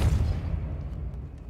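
A Depulso spell cast in Hogwarts Legacy lands as one heavy, low boom right at the start, its rumble fading steadily over about a second and a half with no voice over it.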